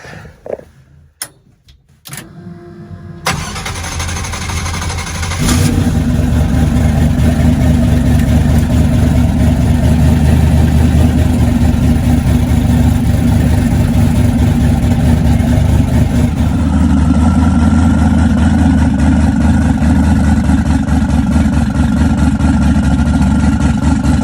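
Turbocharged car engine starting up after a few clunks, then running loud and steady inside a garage, with a rough rumbling idle and a slight change in tone late on.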